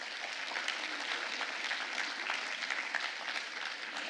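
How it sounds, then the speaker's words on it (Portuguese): Conference attendees at a public integrity congress give a steady round of applause, a continuous even wash of many hands clapping in a large room, heard alone without talking. "Por favor, uma salva de palmas."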